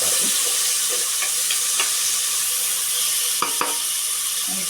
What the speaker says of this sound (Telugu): టమాటో వేసుకొని బాగా వేయించుకోవాలి.